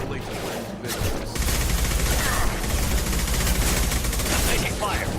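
Sustained bursts of sci-fi gunfire from Mass Effect 2 fill the scene, with dense, loud firefight crackle starting after a quieter opening and continuing throughout, with voices mixed in.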